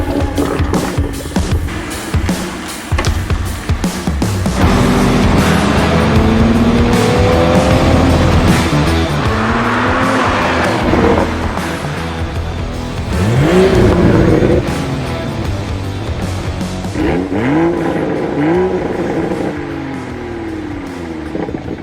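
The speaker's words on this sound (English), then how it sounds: "So without any further ado, let's go get some exhaust clips." A Toyota Supra Mark IV drives past on a busy road, its exhaust rising and falling through loud revs and accelerations that are close and continuous, with tire noise and other traffic mixed in.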